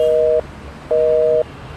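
A phone line gives a busy tone after a call is cut off, two steady beeps with a short gap between them over faint background hiss.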